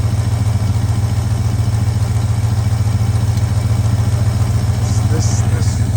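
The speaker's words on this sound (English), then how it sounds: "Got some kind of a exhaust leak" A car engine with an exhaust leak idles steadily with a low, lumpy rumble and faint ticking clatter, close and continuous throughout.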